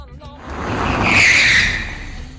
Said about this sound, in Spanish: el sistema frena parcialmente la rueda para evitar su bloqueo